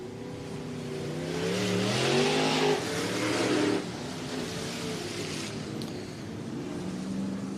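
Iron Giant Street Stocks race cars qualify on a speedway oval, one engine rising in a revving pass that swells loud and then fades into a farther, steadier drone.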